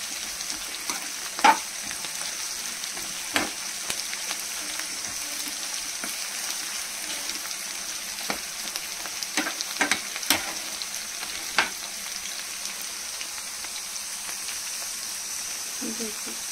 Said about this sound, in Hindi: देखिए हमारे प्याज फ्राई हो रहे हैं।